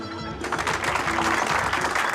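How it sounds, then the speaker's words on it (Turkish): An audience at a nightclub show applauding, a dense sustained clatter of many hands clapping at close range that swells after a brief quieter start, with faint music underneath. "Güzel alkışlarınız için teşekkür ediyorum."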